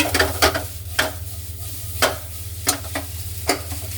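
Eggs cooking in a pan for Hong Kong fried rice, with a spatula tapping and scraping at irregular intervals over a low, steady burner hum and a faint sizzle.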